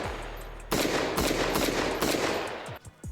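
A modded Israeli-made rifle with a large muzzle brake and no suppressor fires in Arma Reforger: a rapid burst of loud, sharp cracking shots, several quick reports in a row, then a tailing echo and a couple of faint clicks.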